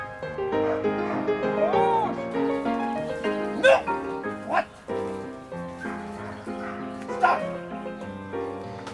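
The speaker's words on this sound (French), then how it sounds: "Le chien doit réagir aux ordres appris à l'entraînement et Michel donne de la voix" Herding dogs in Normandy give a few short, sharp barks at intervals over a steady bed of tonal music, while stock is loaded into a livestock trailer.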